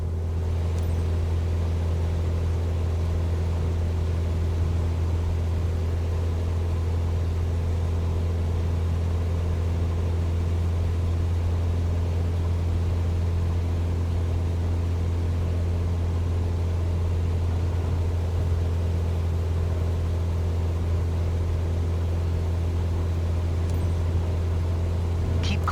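Steady propeller-aircraft engine drone inside Microsoft Flight Simulator 2024 as the plane climbs, a constant loud low hum with no change in pitch, no voices.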